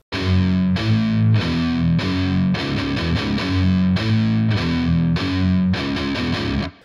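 A riff on a heavily distorted electric guitar, palm-muted chugs with single picked notes and open-string hits in a steady driving rhythm, loud and close with no talking.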